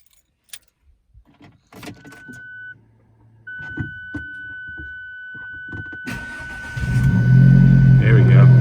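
A 2017 Alfa Romeo 4C carbon fiber roof coupe starting up: keys and clicks, faint electronic chimes and a whine, then the engine catches and settles into a loud, rumbling idle close by.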